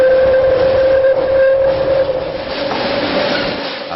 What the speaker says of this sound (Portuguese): Partimos em um trem de subúrbio. Logo cruzamos o túnel do Botujoru.